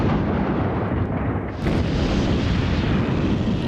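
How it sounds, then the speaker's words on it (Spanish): A World War I artillery salvo fires as a dense, continuous roaring barrage of cannon blasts. It is loud and sustained, with rumbling booms blending into one another. "se levantó la salva de cañonazos más tremenda que haya visto nunca"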